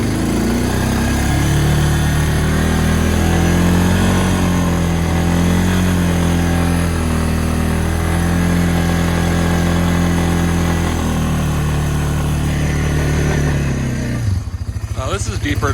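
Honda 300 ATV engine running steadily while pushing a snow plow, a close, loud mid-pitched drone with slight pitch shifts throughout, cutting off abruptly near the end.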